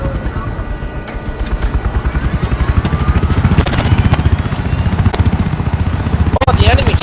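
An enemy helicopter in a multiplayer shooter game gives a loud, steady rotor chop with rapid thumping blades and engine whine that grows closer and swells, with a sharp burst near the end and people talking over it.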